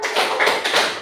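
A primary-school class gives a rhythmic tepuk jempol clapping cheer together, a brief, loud burst of many quick claps and taps close by.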